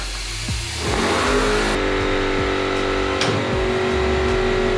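A YuanMech N956 tire changer running under pedal switch control, a loud motor hum that ramps up and holds with a steady mechanical whir and a couple of clicks, close by.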